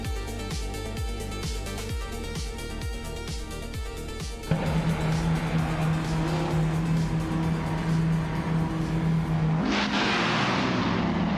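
Racing cars roar off the line at the start of a race at the Ottawa North Club track, with a Ferrari 125 F1 and a Lotus in the field. Rapid engine pulses build into a loud, sustained howl as the pack accelerates, with a sharp jump in intensity midway.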